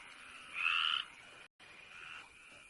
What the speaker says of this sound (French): J'entends rien avec ces saloperies de grenouilles.